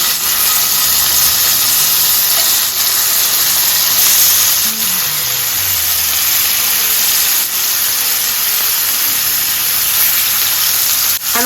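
Lamb chops sear in oil and butter in a skillet, giving a loud, steady, close sizzle that hisses on without a break.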